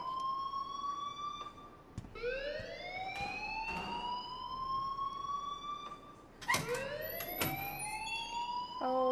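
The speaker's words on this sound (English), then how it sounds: "please turn off that alarm since that's your job" A wailing siren-like fire alarm sounds in the video game Life is Strange, its tone rising in repeated sweeps over a steady electronic hum, loud and continuous with a few sharp clicks.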